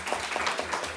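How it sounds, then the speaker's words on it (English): Audience applause for panel members at a climate conference session, a brief burst of dense clapping from a roomful of people, fairly loud and steady. "let me invite you to give a round of applause to our panel members here"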